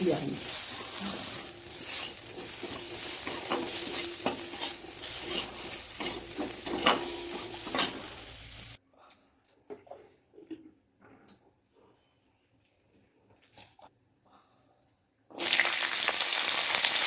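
Eggplant for a Bengali kata chochori is stirred in a pan with turmeric and sugar, with busy scraping and clinking of a utensil and a light sizzle for about nine seconds, then near quiet with faint taps before a loud hiss returns.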